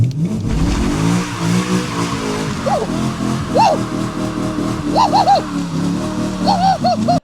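A BMW E9x engine runs steadily up close, its drone shifting pitch as it is driven on a test drive after differential bushing replacement, with short chirping bird calls standing out over it.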